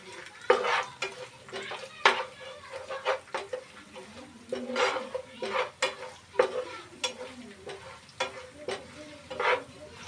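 Spices and masala for prawn biryani sizzle in a pan while a spoon stirs and scrapes in repeated strokes, close and moderately loud, with no talking.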